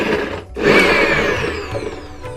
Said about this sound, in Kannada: ಶುಂಠಿ ಮತ್ತು ಬೆಳ್ಳುಳ್ಳಿನ ನಾವು ಮಿಕ್ಸಿಗೆ ಹಾಕಿ ರುಬ್ಕೊಳ್ಳೋಣ